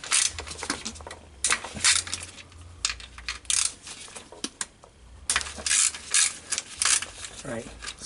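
A ratchet wrench clicks in short bursts as bolts on a 2015 Toyota Hilux transfer case are loosened, with metallic rattles and handling noises between the ratcheting runs, close and moderately loud.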